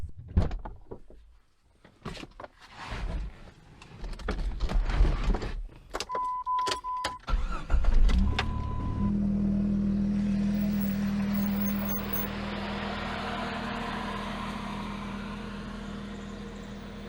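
A car pulling away from a campsite after car camping, with door and key clatter first, then a steady engine and road drone that settles into a constant cabin hum for the rest of the stretch.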